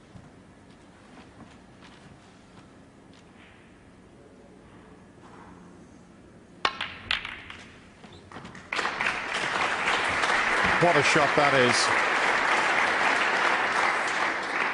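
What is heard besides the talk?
snooker audience applause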